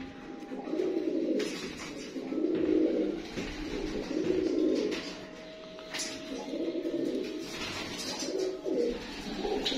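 France breed pigeons coo in repeated, rounded bursts, roughly every second or two, close by, with faint chirps and background noise between calls.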